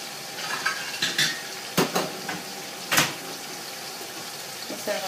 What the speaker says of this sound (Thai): นี่คือการทอดหมูนะคะ